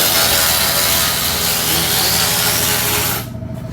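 An air compressor in a workshop runs with a loud, dense, close mechanical roar, holding steady for several seconds before abruptly cutting off near the end.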